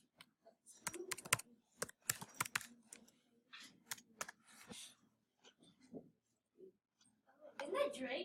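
Keys on a computer keyboard are typed in short bursts of sharp clicks, close and fairly clear, with a voice speaking briefly near the end.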